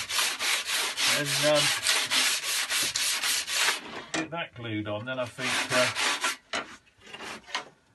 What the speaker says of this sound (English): we're just going to finish sanding this up by hand here